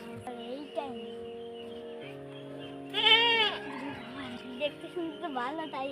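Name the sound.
goat bleating at a livestock market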